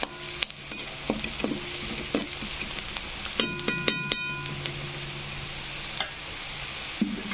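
Tomatoes frying with potatoes in a hot pan for a Marathi potato dish, a close continuous sizzle broken by repeated scraping and clinking stirs of a utensil.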